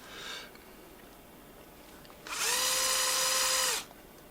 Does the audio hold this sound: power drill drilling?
yes